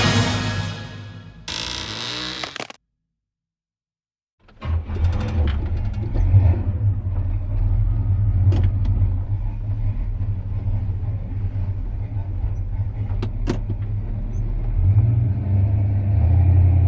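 A 1966 Pontiac GTO engine rumbles steadily while driving, loud and close from inside the car, after a brief starting burst and a moment of silence, with occasional revving swells.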